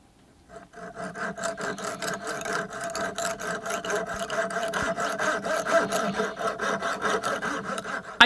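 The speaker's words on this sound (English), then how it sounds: "I think this technique with the saw blade is going to work really well." Saw blade scraped by hand to scribe lines into wet cement on a bonsai temple piece, giving a close, steady gritty rasping in quick back-and-forth strokes after a short quiet start.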